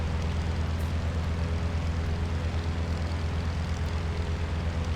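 Propeller airplane engine in a flight simulator game drones steadily and loudly, a constant low hum with a buzzing tone that holds unchanged throughout, with no talking.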